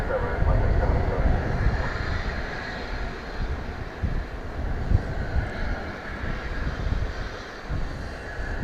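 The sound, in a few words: Beechcraft propeller airplane at DFW airport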